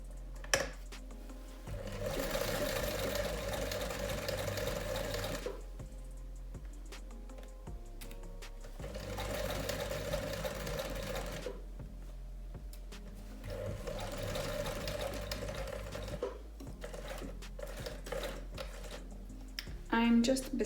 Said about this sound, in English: lift the presser foot up, and start sewing towards the point